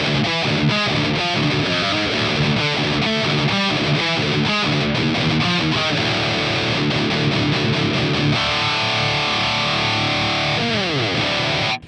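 Loud, heavily distorted electric guitar through a Boss GT-1000 Orange Rockerverb amp model with an EQ block on, playing fast chugging palm-muted riffs, then sustained chords ringing out with a bend at the end.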